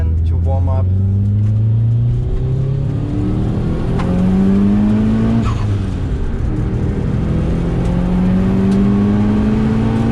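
Tuned Seat Leon FR accelerating hard through the gears, engine pitch climbing in repeated sweeps with brief dips at each shift, loud and close, with people talking over it.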